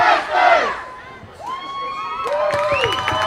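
A rowdy crowd at a minor-league baseball game in Joplin between the Laredo Lemurs and the Joplin Blasters shouts and whoops in loud bursts, with high cheering voices rising and falling over about three seconds.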